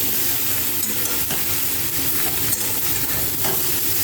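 Spice paste of cumin, ginger and chili, with lentil dumplings, sizzles in oil in a kadai as it is gently stirred. A steady close frying hiss runs throughout, with soft scrapes of the spoon against the pan.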